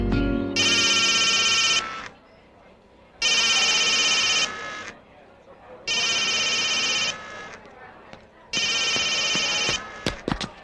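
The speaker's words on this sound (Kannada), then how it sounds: "ಫೋನ್ ರಿಂಗ್ ಆಗ್ತಾ ಇದೆ" A telephone rings in four long, loud bursts with short pauses between, close by, ending with a few clicks.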